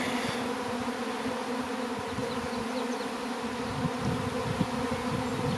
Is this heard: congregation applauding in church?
no